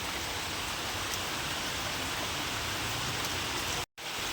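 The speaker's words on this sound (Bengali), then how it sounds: "মানে অসম্ভব বৃষ্টি প্রচুর বৃষ্টি হচ্ছে" Dense, steady hiss of heavy rain falling continuously, even and close, with a brief dropout near the end.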